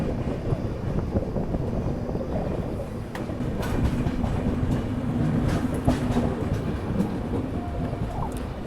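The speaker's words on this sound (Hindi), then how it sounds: "रेनीगुंटा जंक्शन पर अपनी ट्रेन की एंट्री यहाँ पे हो रही है" The Kolhapur–Tirupati Haripriya Express pulls into Renigunta Junction on a monsoon run, a steady, loud rumble of rolling wagons with wind buffeting throughout and no voices.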